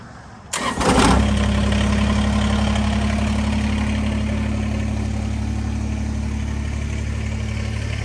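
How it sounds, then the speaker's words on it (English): A Kubota BX23S tractor engine cranks and catches, then settles into a steady, loud low idle that runs on evenly without voices. "I'm gonna start the tractor."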